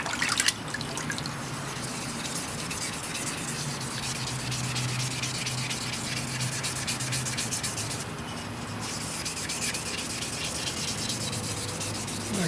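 Steady wet sandpaper rubbing across an old aluminum Magnalite pot to strip its finish, a continuous close scratchy rasp with faint watery drips, running alone without pause.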